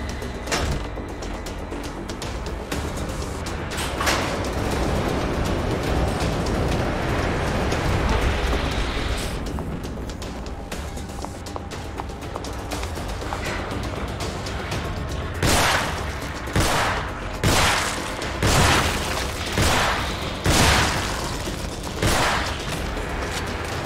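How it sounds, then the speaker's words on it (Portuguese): Loud sustained burst of rapid gunfire in The Evil Within, followed by a series of separate sharp shots spaced about a second apart. "Muitos tiros. Muitos tiros."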